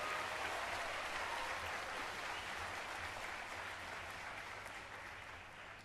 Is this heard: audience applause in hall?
yes